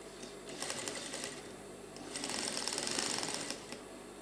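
Sewing machine joining the front and back pieces of a pair of trousers, a soft steady stitching patter over a low hum that swells slightly midway and then eases.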